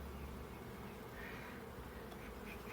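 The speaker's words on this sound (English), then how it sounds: "Whoa, that is a busy hive." Honeybees swarming a busy hive during a June inspection in heat, giving a dense continuous buzzing drone that is steady and close, with no talk.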